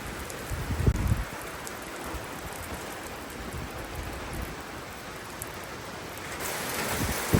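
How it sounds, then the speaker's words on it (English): Steady rain falls outdoors in England during a car service, a dense continuous hiss of drops on surfaces with a few louder patters, heard close and alone. "caught out in the rain again"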